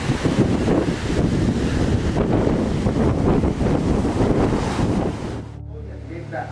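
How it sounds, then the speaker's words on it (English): Loud surf and big waves crashing onto the shore during Hurricane Wilma, carrying debris, with strong wind roaring and buffeting the microphone throughout before easing slightly near the end. "The waves are much bigger than they were last night, and they're coming all the way up on the shore"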